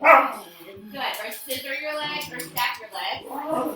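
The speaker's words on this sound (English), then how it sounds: "Sorry, that's my dog." A pet dog barks a few times indoors during a home yoga class, the sharp yaps sitting close under an instructor's steady spoken cues.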